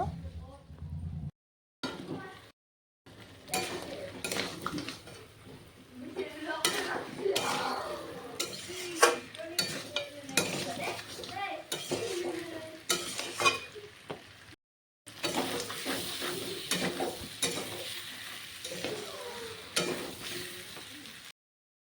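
Fried potatoes tipped into a simmering country-chicken curry and stirred through the seared meat: steady sizzling with repeated scraping strokes of a spoon against the pot, close and fairly loud, broken by two brief pauses.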